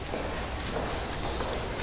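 A horse's hooves clip-clop in a steady rhythm at a modest distance, forming a continuous background without any talk over it.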